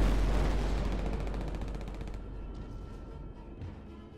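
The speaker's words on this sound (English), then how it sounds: "the showboat fired her 16-inch and 5-inch guns on the firing line for four days" A battleship's heavy naval guns fire during a shore bombardment: one deep, loud boom opens the sound and then rolls and rumbles away, fading slowly through the rest of the moment.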